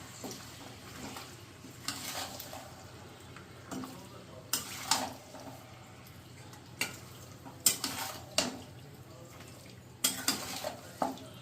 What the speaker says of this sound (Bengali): মাংসের সঙ্গে পেঁয়াজ মশলা সব খুব ভালোভাবে আমি একসঙ্গে মিশিয়ে দিচ্ছি।